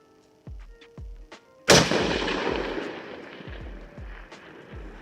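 A sharp rifle shot cracks loudly and rolls away in a long fading echo across open ground, with several softer thuds and pops before and after it.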